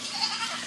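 A baby goat bleats in a farmyard, a short wavering cry heard close under a steady hiss of background noise.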